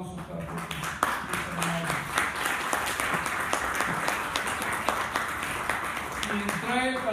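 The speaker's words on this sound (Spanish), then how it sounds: "un aplauso para Pepe" Audience applause for filmmaker José Peguero Arciniega at a film presentation in Xalapa, a steady mass of clapping sustained throughout at moderate level, with scattered voices and a few brief tonal sounds mixed in.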